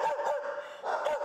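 Dogs bark repeatedly in an animal shelter crowded with dozens of cages. The barking comes in overlapping bursts and yips, loud and close, with no talking.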